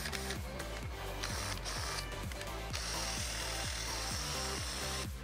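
Steady mechanical whirring with a rhythmic grinding pulse, a drill boring into metal running continuously at close range, faint and unbroken.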